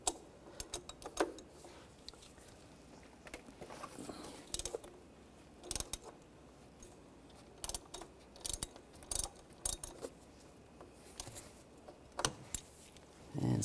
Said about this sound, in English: remove the oil filter, use a 27 millimeter socket.